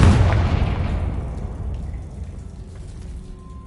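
A booming fiery blast from a Confringo spell in a wizard video game strikes loudly at once, then decays into a long rumbling, crackling tail that fades over several seconds.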